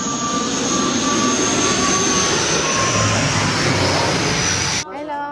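A jet airplane roaring loudly overhead on an island in Thailand, a steady broad rumble and whine that holds throughout, then cuts off as a voice briefly sounds.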